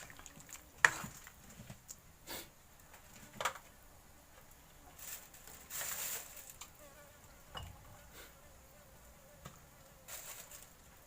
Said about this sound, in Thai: แมลงวันมาแล้วครับ